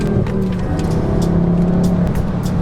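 A Ford Focus ST drives along, its engine giving a steady, loud, close hum with road and cabin rumble and a few faint clicks and ticks.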